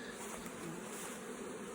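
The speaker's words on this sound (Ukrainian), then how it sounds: "тут дуже багато бджоли" A dense, steady buzz of many honeybees at a hive, close and continuous, with no pauses.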